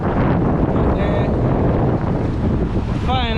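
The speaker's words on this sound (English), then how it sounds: "it starts to get very windy now" Strong wind buffets the microphone on a fishing boat on open water off Jamaica, a loud continuous roar with gusty rumbling and the wash of waves beneath.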